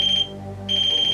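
A ghost-hunting device beeps in a steady high-pitched tone during an overnight séance aboard the Queen Mary, cutting out briefly before resuming, fairly loud and with no talk over it.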